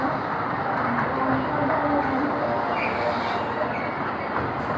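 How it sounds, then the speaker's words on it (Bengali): A small toy ride train runs at Rajshahi zoo, giving a continuous rumbling, rolling drone with faint clatter, loud and steady from start to finish with no breaks. "এটা হচ্ছে ট্রেন।"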